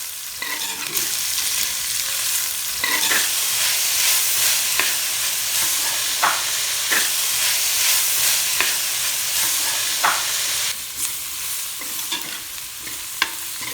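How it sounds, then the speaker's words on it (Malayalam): Chopped onions sautéing with salt in a pan for a Kerala-style beef roast, a steady close sizzle with occasional stirring clinks and scrapes, no talking. "വലിയ ഉള്ളി ചെറുതായിട്ട് കട്ട് ചെയ്തിട്ട് അതും കൂടി ചേർത്ത് കൊടുക്കാം കേട്ടോ പെട്ടെന്ന് തന്നെ വഴന്ന് കിട്ടണമെങ്കിൽ കുറച്ച് ഉപ്പ് കൂടി ചേർത്തിട്ട് വഴറ്റിയെടുത്താൽ മതി"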